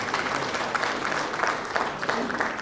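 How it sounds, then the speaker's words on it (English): Gala-night audience at a business conference applauding themselves for attending, a dense, loud wash of clapping that fills the whole span without letting up. "Please give yourself applause for showing up tonight for Gopio and supporting the organization"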